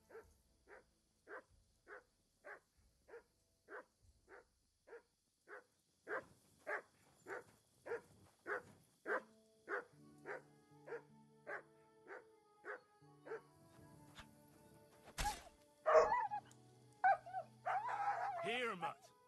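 A dog in the video game Kingdom Come: Deliverance II barks in a long, evenly spaced series of single woofs that grow gradually louder, followed by game sounds and someone speaking.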